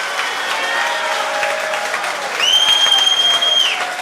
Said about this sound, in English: one more round of applause for all of our candidates